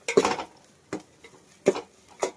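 Ground masala fries in oil in a pan for an Andhra-style green chicken curry. A utensil scrapes and clinks against the pan in four short, separate strokes, close and fairly quiet, with faint sizzling between them.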